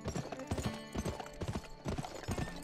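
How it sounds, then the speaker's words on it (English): Horse hooves clip-clopping in a brisk galloping rhythm while riding through the Western video game GUN, close and steady over a few seconds. "I mean the mood to ride a horse"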